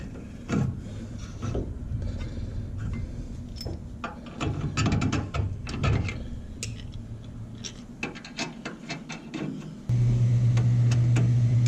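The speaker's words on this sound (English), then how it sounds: "Now the final step, reinstall the lower shock bolts." Ratchet wrench clicking rapidly in uneven bursts while lower shock bolts are reinstalled on a 2017 Ford F150 during a Solastic spring install, close and fairly loud, with a steady low hum taking over at the end.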